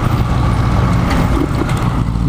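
A 2009 Honda TMX 155 manual motorcycle engine roars loud and close, a thick, steady rumble held throughout with no pauses.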